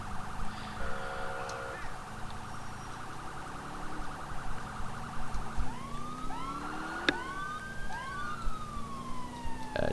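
A wailing police car siren in GTA IV sweeps up and down repeatedly over a low engine hum, growing more prominent and rapid toward the end.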